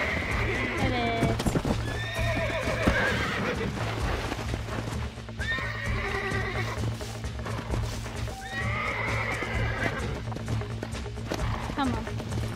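Horse whinnies and galloping hoof clip-clops from riding in the video game Red Dead Redemption, several loud neighs repeating over steady hoofbeats, with people talking throughout.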